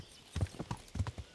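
A short run of hollow clip-clop hoof clops in the video game Kingdom Come: Deliverance, two quick groups of three or four beats, close and distinct against a quiet background.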